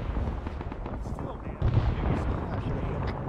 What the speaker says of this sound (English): Mortars to the south.